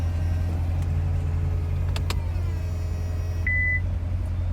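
Low steady hum of an idling 2014 Chevrolet Corvette Stingray with a faint electric power-seat motor whir, then a short high-pitched electronic beep near the end.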